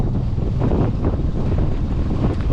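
Strong gusting wind buffets the microphone on open water during a stormy salmon and trout fishing trip with a strong current, a dense continuous low roar with choppy wave noise and no talk.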